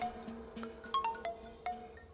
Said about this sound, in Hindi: शैलू का फोन है।